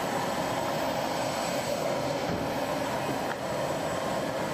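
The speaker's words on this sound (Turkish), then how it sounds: "Ambulans uçak 17 günlük bebek için havalandı." Ambulance airplane taking off carrying a 17-day-old baby, a steady broadband engine roar that holds loud and constant throughout with no talk.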